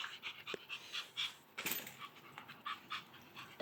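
A small friendly dog pants in quick rhythmic breathy bursts at close range, quiet and repeated, with a soft whimpering note in places.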